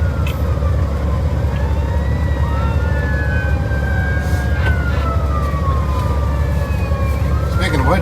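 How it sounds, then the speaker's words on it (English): Fire engine siren wailing and sweeping in pitch as it passes, heard over the steady loud rumble of a truck cab rolling downhill. "here comes the fire department"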